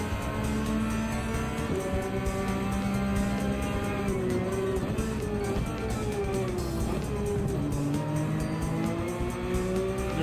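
Race car in Gran Turismo 7 at Mount Panorama held in first gear, its engine droning and revving steadily at close range with wavering pitch, loud and continuous throughout.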